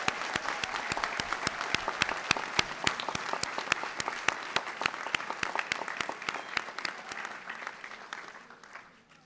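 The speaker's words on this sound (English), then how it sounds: "let us now join in tribute with a rousing sound of applause for today's promising young men and women" A large graduation commencement audience applauds steadily, dense clapping sustained at full strength for about eight seconds before tapering off near the end.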